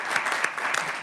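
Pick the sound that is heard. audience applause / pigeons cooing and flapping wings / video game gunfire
audience applause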